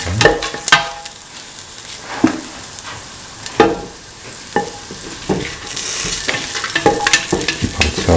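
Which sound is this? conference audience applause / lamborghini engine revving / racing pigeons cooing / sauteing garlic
sauteing garlic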